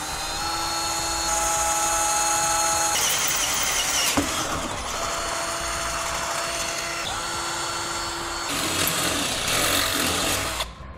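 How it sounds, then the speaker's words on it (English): Power drill boring two holes into the bumper beam of a 2017 Ford Edge, a steady loud whine that dips briefly between bursts, with several sustained drilling passes and no talking. "we're going to drill 2 holes"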